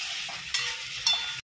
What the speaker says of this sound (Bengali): এদিকে ততক্ষণ খিচুড়িতে যে সবজি তরকারিগুলো দেওয়া হবে সেগুলো ভাজাভাজি করে দিচ্ছি